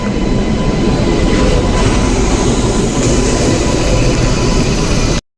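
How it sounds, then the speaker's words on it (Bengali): Jan Shatabdi express train pulling into a station on the run back to Kolkata, a loud, close, continuous rumble and clatter of wheels and carriages that cuts off abruptly. "এই যে আমাদের জনশতাব্দী ফাইনালি আধা ঘন্টা লেটে"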